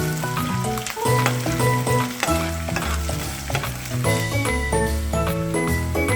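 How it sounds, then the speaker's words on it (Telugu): Cumin, mustard seeds, chopped onions and green chillies sizzle steadily in hot oil while being stirred, with metallic clinks of a spoon against the pan throughout, close and fairly loud with no talking. "ఆ నూనె వేడెక్కినాక జీలకర్ర, ఆవాలు, మనం కట్ చేసి పెట్టుకున్న ఉల్లిగడ్డలు, పచ్చిమిర్చి ఇవి రెండింటిని వేసుకొని కలుపుకోవాలి"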